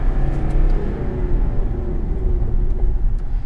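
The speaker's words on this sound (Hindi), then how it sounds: "Quickly doing the braking test." A Mahindra Bolero Neo N8, a rear-wheel-drive SUV on a ladder-frame chassis, rumbles steadily on the road during a braking test, with a continuous low engine and road roar and no talking.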